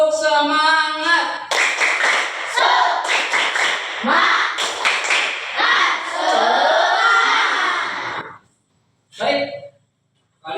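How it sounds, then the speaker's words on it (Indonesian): A school class performs a rhythmic group clap, sharp patterned hand claps from many pupils mixed with chanting voices, ending abruptly in silence before a short final burst. "semuanya tepuk semangat"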